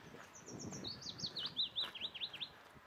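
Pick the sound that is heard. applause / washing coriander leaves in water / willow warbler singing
willow warbler singing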